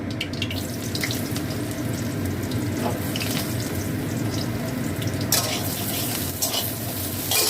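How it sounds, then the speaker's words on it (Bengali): Eggplant pieces frying in hot oil left over from okra, salted, giving a constant close sizzle with stirring and a brief splash of running water near the end. "এই তেলেতেই আমি এই বেগুনগুলোকে ভেজে নেব।"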